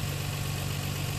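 A Nissan Skyline R32 GT-R engine idles with a close, steady, even rumble over a very short stretch, with no other sounds.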